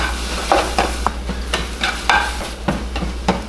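Eggs are stirred together with salsa in a hot frying pan, with repeated scraping stirring strokes over a steady sizzle and no voices.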